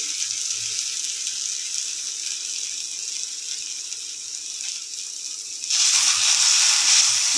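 Potatoes fry in a pan with a steady, close sizzling hiss that holds even throughout and grows a little louder near the end, with no voices.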